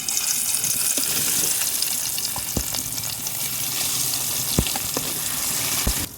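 Pieces of silver carp fry in hot oil with a continuous close, loud sizzle, punctuated by a few sharp crackles and spatters; no voices.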